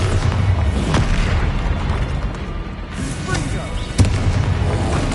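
Bombarda explosion spell going off in Hogwarts Legacy, a dense rumbling boom with crackling debris over a busy battle mix, a sharper burst near the end and voice sounds mixed in throughout.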